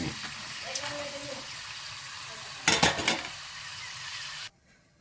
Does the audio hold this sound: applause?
no